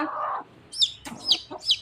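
A native country hen with newly hatched chicks clucks close by, a low murmur followed by three sharp high peeps at a steady rhythm.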